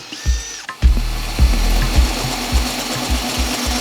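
A power drill drives wood screws into a go-kart seat mount, a series of short motor bursts about every half second, close and loud with a steady hum between them.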